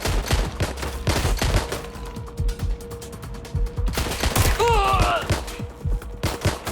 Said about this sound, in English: They're wounded! They're shooting!